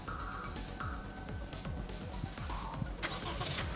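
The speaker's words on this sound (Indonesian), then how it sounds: "Lalu kita coba hidupkan mesinnya." A Honda Brio car's starter cranks in rapid repeated pulses, then the engine catches and settles into a steady idle, close and fairly loud, with no talk.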